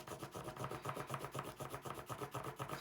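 A wax crayon rubs back and forth across paper laid over a leaf, giving a steady rhythmic scratchy rasp with a bump each stroke as it crosses the leaf's veins, close and fairly quiet.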